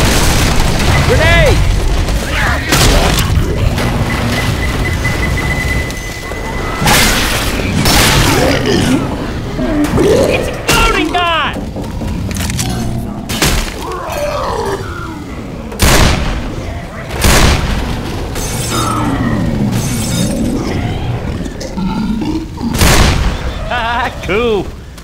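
Repeated booming blasts and gunfire in the zombie shooter Left 4 Dead 2, several heavy explosions spaced through a dense, loud mix of shots, game effects and voices talking.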